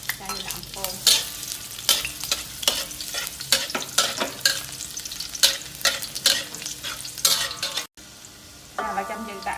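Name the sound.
garlic frying in hot pork lard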